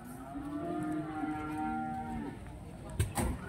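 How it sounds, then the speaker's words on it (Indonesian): Simmental cattle at the Rogojampi livestock market, one animal giving a long, close, loud moo that slides downward, followed by brief knocking and thumps amid market background noise. "Sapi muda"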